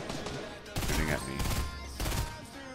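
Rapid bursts of automatic gunfire from a video game shootout near a building, loud and continuous with brief gaps, a voice partly underneath.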